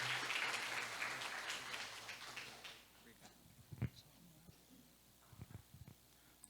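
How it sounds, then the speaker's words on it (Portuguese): Church congregation applauding during a service, a full round of clapping that fades over about three seconds, followed by faint scattered taps and room noise. "dando novamente para Jesus uma linda salva de palmas, amém?"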